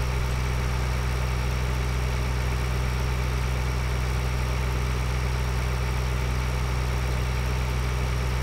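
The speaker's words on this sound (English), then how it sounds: "let me bring a tractor over to cultivate this while we're doing that" Tractor engine idling in Farming Simulator 2013, a steady low mechanical drone that holds at an even, moderate level throughout with no talk over it.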